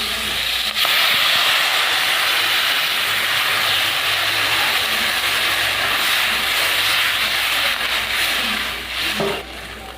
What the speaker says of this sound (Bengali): এটা একটু নাড়িয়ে নিয়েছি, এবার আমি জল দিয়ে দেবো।